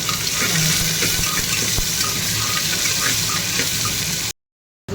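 Chopped onion, ginger and garlic hitting a hot pan with chicken to follow, giving a loud, steady sizzle that runs unbroken for several seconds and then cuts off abruptly.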